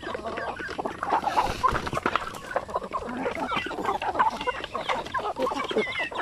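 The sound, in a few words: chickens clucking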